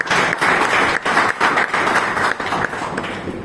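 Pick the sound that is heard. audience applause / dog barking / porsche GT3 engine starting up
audience applause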